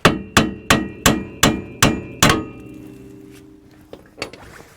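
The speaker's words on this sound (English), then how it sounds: "Just tap on the knuckle" Seven evenly spaced, ringing metallic hammer blows strike a 2015-2020 Ford F150 steering knuckle to free the upper ball joint, close and loud, followed by a fading ring and a couple of softer knocks.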